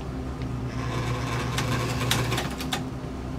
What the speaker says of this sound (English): We're gonna listen to the motor.